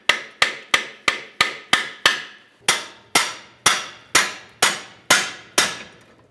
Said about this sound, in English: just hammer that, tap that in to separate